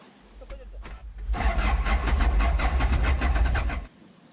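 Truck engine pushed through simulated knee-deep floodwater, starting with a few sputters, then revving steadily with deep low rumble before abruptly cutting out as it stalls.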